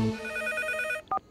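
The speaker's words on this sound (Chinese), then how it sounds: "大半夜的打什么电话？" A telephone rings in a cartoon, a steady electronic bell trill running for about a second before cutting off, followed by a brief higher tonal blip.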